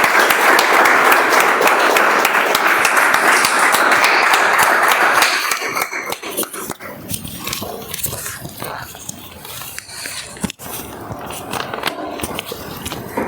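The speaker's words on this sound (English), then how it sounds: "May I request you all to give a huge round of applause for our timer, Toastmaster Abhishek." Audience applause for a timer at a Toastmasters club meeting, dense and loud for about five seconds before thinning into scattered claps and room murmur.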